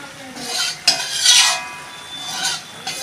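Mutton being stir-fried for a mutton and potato curry, with short bursts of scraping and a metallic utensil knock against the pan, loud and close, separated by brief quieter gaps.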